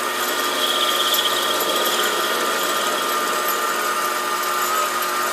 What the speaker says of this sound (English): I'm now going to advance the tool a little bit and just take a light facing cut.